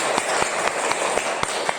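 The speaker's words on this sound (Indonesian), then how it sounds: "Ya, beri tepuk tangan kelompok 2." Students in a classroom applaud a presenting group with rapid, steady clapping that holds an even level across the short span.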